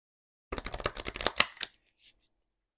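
A deck of love oracle cards being riffled and mixed by hand: a quick, close flurry of papery flicks for about a second, followed by two faint taps as the cards settle.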